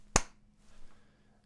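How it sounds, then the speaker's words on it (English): A single sharp clap from players counting in together, a crisp, loud, isolated hit followed by a brief quiet tail. "let's all clap after 3."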